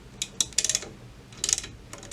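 A screw is run down and snugged on an MDT rifle chassis while it is being lapped, giving two short bursts of quick metallic ratcheting clicks with a pause between them, close and crisp.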